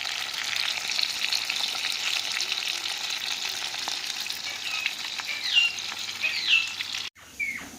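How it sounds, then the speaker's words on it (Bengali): Foli fish frying in oil over a clay stove, a continuous close sizzle with small pops and a few scrapes before it cuts off near the end, no talk. "এইভাবেই আমরা পুরো সব মাছগুলোকে ভাজা করে নিচ্ছি প্রথমে।"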